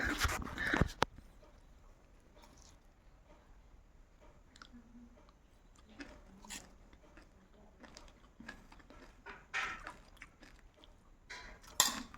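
Someone eating chhiddi made with ghee, with quiet, close chewing and biting sounds and occasional crunches in a hushed room.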